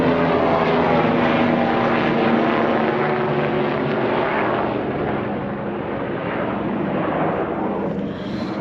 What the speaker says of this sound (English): Low-flying fucking police helicopters chasing some perp in a car or on foot